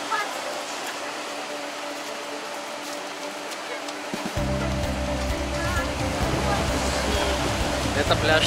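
Surf washing onto Tikhaya Gavan sandy beach near Novy Svet, a steady broad roar of breaking foamy waves close by, with a deeper low rumble joining partway through.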